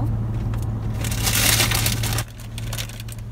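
Crunchy Burger King tacos are bitten and chewed up close, a loud crackling crunch lasting a couple of seconds before easing to softer chewing, with a low hum underneath.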